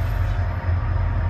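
A passing train gives a steady low rumble with continuous rolling noise, loud and unbroken for the whole moment.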